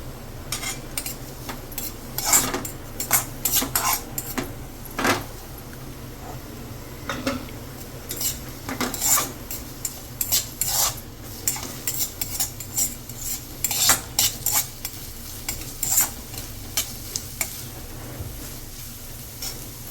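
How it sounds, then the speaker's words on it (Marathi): Onion being roasted in a kadhai for a wet masala paste: irregular metallic scrapes and clinks of a spatula against the pan, close and moderately loud over a low background hum, with no voices. "त्याच कढईमध्ये ओलं वाटण करण्यासाठी सर्वात आधी कांदा भाजून घेऊया"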